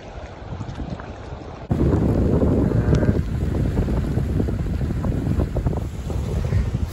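A motorboat ferries people across the Lielupe river, its engine a steady, loud roar mixed with heavy wind buffeting that swells stronger partway through and holds without letup.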